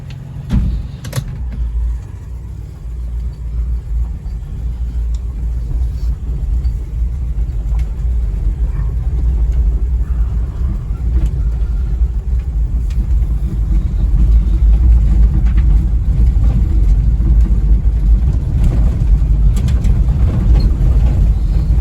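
A Scout vehicle drives along a road, its engine rumbling low and steady the whole way, growing slightly louder toward the end, with no talk over it.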